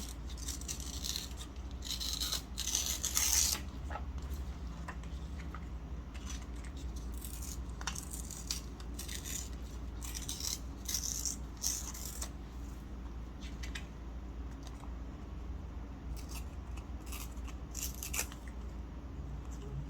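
Paper torn by hand for a bee-themed junk journal craft: a series of rough ripping and rustling bursts through the clip, loudest near the start, close and fairly quiet with no talk.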